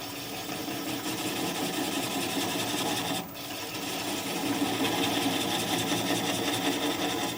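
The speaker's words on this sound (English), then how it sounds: "I'm going to switch to a 3/8 inch swept back gouge and complete the cut on the lathe here" A wood lathe spins at around 300 RPM as a 3/8 inch swept back gouge cuts a laurel bowl, giving a steady, close, continuous rasping whir with one brief dip partway through and no talking.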